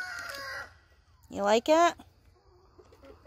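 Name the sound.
chickens clucking at coop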